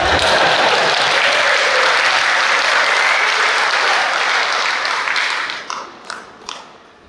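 An audience at a high school Hall of Fame induction applauds loudly, a dense sustained burst of clapping that thins to a few scattered claps and fades out near the end.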